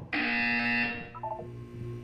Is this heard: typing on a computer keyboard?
no